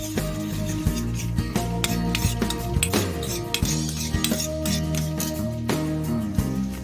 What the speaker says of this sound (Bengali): এবার মিশিয়ে নেবো সসগুলো।